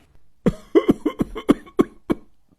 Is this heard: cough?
yes